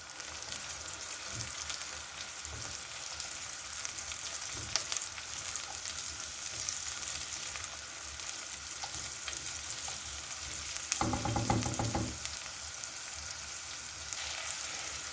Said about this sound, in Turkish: Tekrar kavurmaya devam edeceğim.